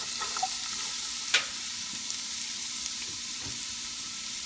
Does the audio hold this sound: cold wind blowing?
no